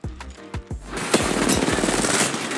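Gunfire in Apex Legends, a few sharp separate shots at first, then a rapid automatic burst with layered impacts, loud and close, with no talk over it.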